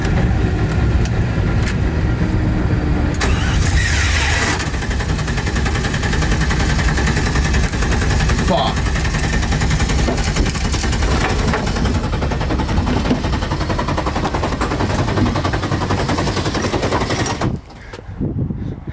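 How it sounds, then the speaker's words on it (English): The starter motor of an LS1-swapped BMW E36 is stuck running, a loud, harsh, rapid mechanical chatter that grinds on steadily for most of the stretch before cutting off abruptly near the end. "Starter wouldn't shut off."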